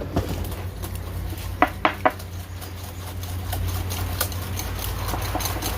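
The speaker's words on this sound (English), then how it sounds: "We're going to whisk that all together." A whisk working a mayonnaise mixture for crab imperial in a bowl, with a few distinct metallic clinks against the bowl, then quieter rapid tapping over a steady low hum.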